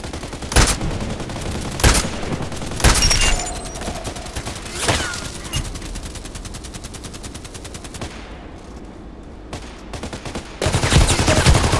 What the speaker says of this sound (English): Got shot by a level 17 player.